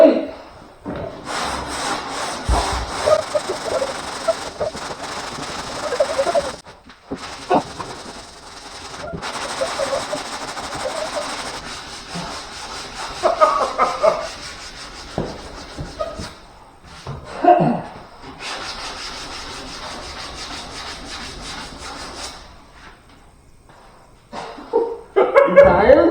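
Hand sanding of wood, a rough rhythmic rubbing that comes in strokes and bursts with short pauses, close by, with occasional voices and noises around it.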